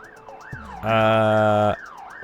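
Police and ambulance sirens in The Getaway video game sweep up and down, broken briefly by a loud sustained horn blast in the middle before the wailing resumes.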